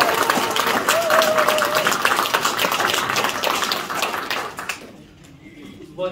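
An audience at a political campaign office opening ceremony in Sejong bursts into sustained, dense applause and clapping that fills the room for several seconds before tapering off.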